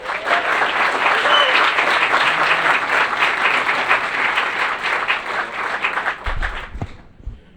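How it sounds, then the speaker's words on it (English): At a city council meeting, the audience gives a sustained round of applause, steady and fairly loud for about six seconds before it breaks off, followed by a few thumps and handling noises. "One more round of applause for Robin."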